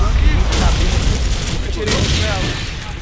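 Rapid gunfire bursts and booming shots from Call of Duty 4: Modern Warfare, loud and continuous, with voices talking over the action.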